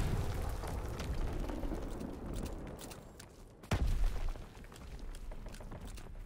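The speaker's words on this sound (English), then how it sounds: "Enemy bomb incoming! Get to cover!" Gunfire and rumbling combat in Call of Duty WWII, then a sudden heavy bomb explosion with a loud, sharp burst that fades into a lingering rumble.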